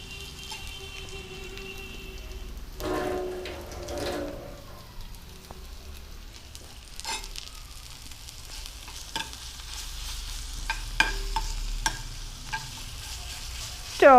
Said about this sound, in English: Braise these onions well and mix it well with the ginger garlic paste